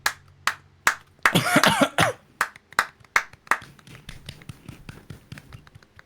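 Scattered claps from a small audience greeting a toddler named Quack My Panda, 28 months old; a dozen or so sharp, separate claps at an uneven rhythm, with a brief burst of voice or cough near the start.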